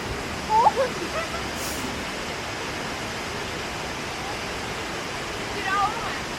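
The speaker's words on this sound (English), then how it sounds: "So it's a 2-tiered waterfall." A tall two-tiered waterfall near Portland roars as a steady, dense wash of rushing water, loud and continuous, with a few brief faint voices rising over it at the start and end.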